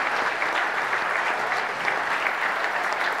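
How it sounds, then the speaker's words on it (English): A church congregation at a Sunday service in Palm Desert applauds veterans on Veterans Day: dense, even clapping from a moderately sized audience, steady and unbroken for a few seconds. "Let's give them a big round of applause on this wonderful Veterans Day."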